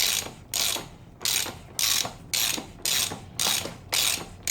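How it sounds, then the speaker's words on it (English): A ratchet tool undoes the front wheel spindle on a Suzuki GSXR750 motorcycle in a workshop, loud close clicking bursts repeating in an even rhythm, about eight strokes, with no voices. "So now as I undo this, the wheel spindle will start to come out the forks."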